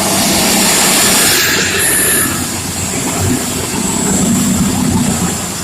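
A CrossCountry Class 221 train, unit 221124, rushes through Swinton station in South Yorkshire: a loud, sustained roar and rumble of the passing train, steady throughout with a faint higher whine at times.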